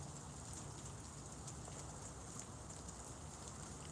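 Steady rain falls close by just under the edge of a roof on a chilly outdoor evening, a dense even patter with sharper drips striking nearby surfaces, continuous and fairly loud with no talking.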